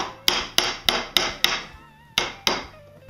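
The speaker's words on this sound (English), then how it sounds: "using the cut line that I established earlier with the marking gauge, I'm going to feed the chisel right into there" A mallet strikes a chisel set in a marking-gauge line on wood for cabinet drawers: seven sharp, evenly spaced knocks, close and loud, with a short pause before the last two, and no talking.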